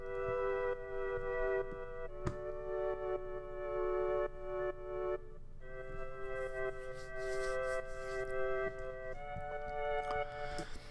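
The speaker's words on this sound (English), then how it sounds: "this is a recorder, like a fluty recorder sample that is made into these chords" Sampled recorder flute tones played as sustained chords, several held blocks of bright, breathy harmonic notes changing every few seconds over a soft, faint background.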